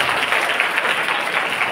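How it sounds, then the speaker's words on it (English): Audience applause at a formal welcome event for a guest of honour, steady broadband clapping from a crowd filling the whole moment at an even level. "the big round of applause for Yashwant."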